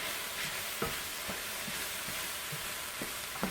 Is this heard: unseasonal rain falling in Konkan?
no